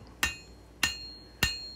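Three sharp hammer blows land on a steel knife blade while the bevels are forged on a small integral bolster knife, evenly spaced about 0.6 seconds apart, each ringing briefly before fading.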